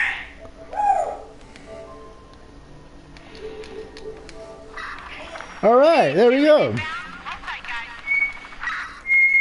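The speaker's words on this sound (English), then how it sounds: "If you're hearing that noise in the background, it's my parrot." A pet parrot squawks and whistles in the background of a gaming session, with a loud warbling call in the middle and thin whistles after it, while someone speaks nearby.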